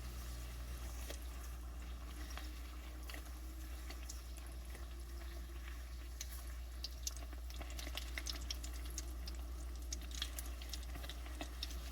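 Chicken nuggets frying in oil in a cast iron pan, a faint steady bubbling with scattered small pops and crackles throughout, no talking.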